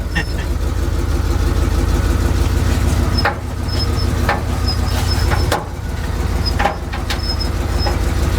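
A 1970 Chevrolet C10 Sierra Grande pickup engine runs steadily with a deep, loud rumble throughout, under faint background voices.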